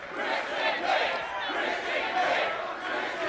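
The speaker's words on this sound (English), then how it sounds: "Crowd screaming Christian's name, trying to fire him up." A large TNA wrestling arena crowd screams and roars continuously for wrestler Christian, a dense wall of voices swelling and dipping slightly throughout.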